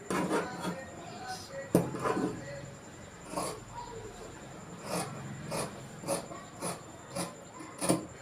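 Scissors cut through shirt fabric in a series of short, rasping snips and slides, some sharper and louder than others, spaced irregularly across the stretch with quiet gaps between cuts.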